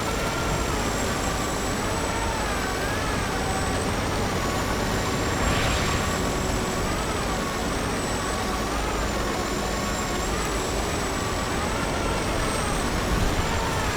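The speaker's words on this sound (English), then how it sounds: "now you get to see the suffering that is a KV220 with a broken engine trying to drive uphill." A KV-220 tank in a video game grinds uphill on a broken engine, a constant strained rumbling drone with a thin whine above it, steady throughout.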